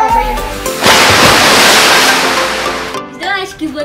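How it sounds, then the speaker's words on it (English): A cup of ice water is dumped over someone's head during a dare game: a loud, sudden splashing rush that lasts about two seconds and fades, with talk and movement before and after. "Of ice water over here."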